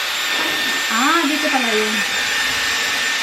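A Dyson Airwrap hair styler running with a steady, loud vacuum-like whooshing hum and high whine, continuous throughout, while a person speaks briefly over it.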